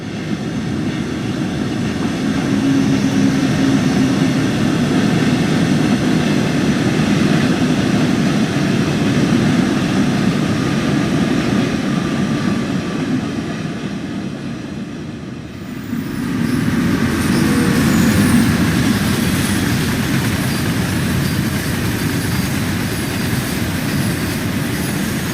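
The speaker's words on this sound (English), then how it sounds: "standing on the buffers to watch a train pass by" A train rumbles steadily past in the Train Sim World 2 railway simulator on the Ruhr-Sieg Nord line, heard from the buffers: a loud, continuous roll of wheels and wagons with a brief dip midway before the rumble resumes.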